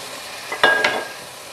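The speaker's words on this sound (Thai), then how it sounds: "เราก็จะคั่วไปเรื่อยๆนะคะ" Minced pork being stir-fried and tossed in a pan with a little fish sauce, giving a short burst of sizzle and two quick scraping stirs over a low, steady frying hiss.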